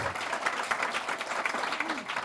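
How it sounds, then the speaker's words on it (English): A crowd applauds for a coach's mother at a basketball coach's retirement event, steady dense clapping filling the room without a break. "you can give a round of applause for her"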